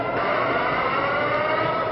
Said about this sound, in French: Seules des sirènes au loin rompent le silence.